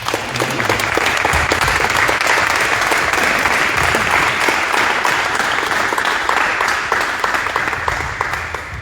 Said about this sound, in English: why don't we do a round of applause here?